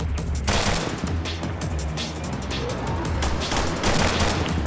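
Gunfire during a military training exercise crackles as a dense, continuous fusillade of overlapping rapid shots, loud and close, lasting the whole stretch with no pause.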